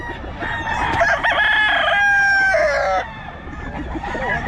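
Rooster at a poultry market crowing once, loud and close, in a long drawn-out call over a busy background murmur.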